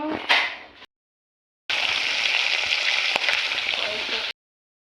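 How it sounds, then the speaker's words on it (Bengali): Potatoes frying in oil with tempering spices: a short burst of sizzling, a pause of silence, then a loud, continuous close sizzle with a faint clink partway through before it cuts off. "তেলের মধ্যে আলু দিয়ে ফোড়ন দিয়ে আলুটা এখন ভাজা হচ্ছে"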